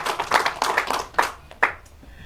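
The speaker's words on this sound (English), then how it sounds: "we must give ourselves a round of applause" Scattered clapping from a small group of attendees at a conference wrap-up, a few distinct bursts of hand claps that thin out into isolated claps and fade.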